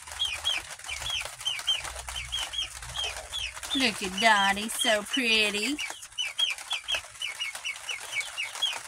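Backyard chickens cluck steadily nearby while a rooster lets out loud, drawn-out calls midway through, with a person talking briefly over the flock.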